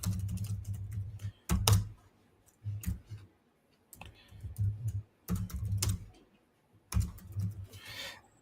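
Keyboard typing in irregular bursts, clattering keystrokes broken by short pauses, close and clear, with some low hum beneath.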